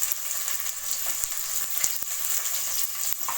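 Green chilies fry in hot oil in a pan, a bright close continuous sizzle with small crackles and pops, and no talking.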